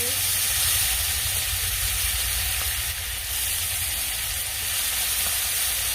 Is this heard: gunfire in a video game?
no